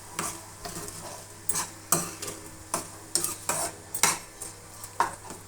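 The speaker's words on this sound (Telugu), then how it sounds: "టేస్ట్కి సరిపడా సాల్ట్, కారం బాగా మిక్స్ చేసి" A spoon scrapes and clinks around a pot as salt and chili powder are stirred into tomato dal tadka, regular knocking strokes over a soft sizzle, close and alone.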